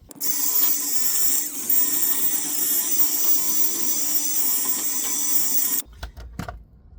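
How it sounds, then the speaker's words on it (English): An impact wrench fitted with a wire brush scrubs a rusty rear brake flange on a 2022 Mitsubishi Outlander, giving a loud, steady high-pitched whirring grind that cuts off abruptly, then a few clunks follow. "We're going to use the impact wrench with the wire brush to clean it."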